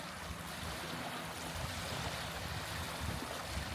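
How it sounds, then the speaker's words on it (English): Water sloshes and laps continuously against a shore on West Point Lake in the wake of a boat that passed earlier, a steady broadband wash with low rumbling swells and no voices. "that boat went by a long time ago and it's still racking up the waves"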